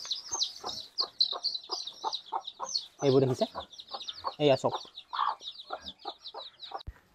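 Hens cluck alongside high, rapid peeping from newly hatched chicks on a home poultry setup with an incubator for local chickens, heard close and continuous while a person talks over them.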